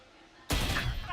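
A single loud gunshot in Valorant, landing as a headshot, bursting in abruptly after a quiet moment and ringing on briefly.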